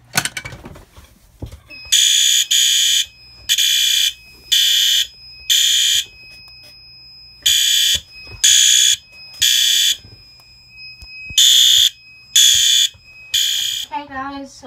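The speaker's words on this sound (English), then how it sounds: "we're gonna be testing a smoke detector" A loud, shrill smoke alarm sounds in repeated bursts of three beeps with pauses between, preceded by faint handling noises.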